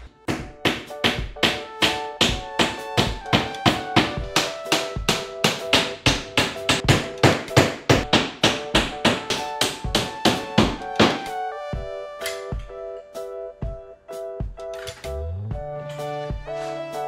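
A hammer drives 2.5-inch nails through a furring strip into wall studs in a fast, even run of close, sharp blows, about three a second, before the hammering stops and a duller, steadier sound follows.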